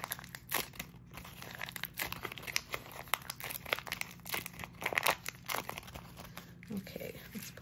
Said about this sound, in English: I think I'm gonna crinkle a little bit more.